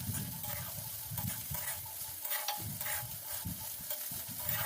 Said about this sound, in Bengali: এবং মুগ ডালটা দিয়ে আরও ভালো করে নেড়েচেড়ে ভেজে নিতে হবে